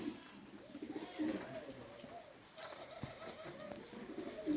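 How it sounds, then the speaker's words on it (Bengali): Pigeons coo softly from a flock sheltering under a tin roof, low rolling calls repeating in overlapping phrases, fairly close but quiet. "অনেক কবুতর এখনও ভিতরে আছে"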